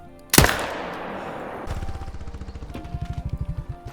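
A single loud rifle shot at a red deer about 230 meters away in theHunter: Call of the Wild cracks out and rings off, followed by a steady run of quick rhythmic clicks.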